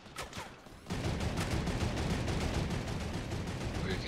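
Rapid turret gunfire from a video game runs as a dense, loud, steady burst of automatic shots for most of the stretch, preceded by a quieter moment with some faint sounds.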